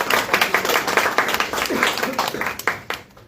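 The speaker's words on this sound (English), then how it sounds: "Round of applause again for Lorenzo." An audience at a book launch event for a marketing anthology claps for an author, a lively burst of distinct, close hand claps with a few voices underneath, thinning out toward the end.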